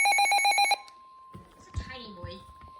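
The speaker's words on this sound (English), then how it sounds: "Oh, I just got a notification. Severe thunderstorm warning for me." A phone alert tone for a severe thunderstorm warning, a loud pulsing electronic ring lasting under a second, followed by a faint steady tone and murmured speech.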